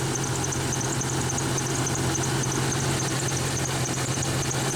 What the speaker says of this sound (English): So now we turn off the Jeep.